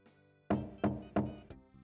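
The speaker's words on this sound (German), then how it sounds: "Ich werde mal klopfen." Four firm knocks land on a door in the point-and-click adventure game Zak McKracken, evenly spaced hollow thumps with the last one lighter, heard alone against a quiet background.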